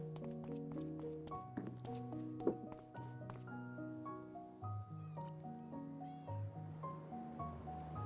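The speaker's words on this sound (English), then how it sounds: "I thought I could hear them meowing, I just didn't know where from." Cats meow in PowerWash Simulator, a series of short tonal calls over a steady musical background, fairly quiet and close.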